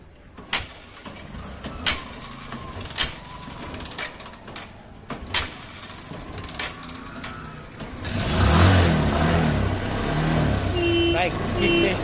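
An old-model Bajaj Discover 125 motorcycle with a battery that won't charge, kick-started: repeated sharp kick strokes in the first seconds, then the engine catches and settles into a loud, steady idle close by.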